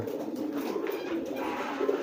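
Pigeons coo softly during courtship driving, low repeated throaty calls heard faintly at a moderate distance over a steady background hiss.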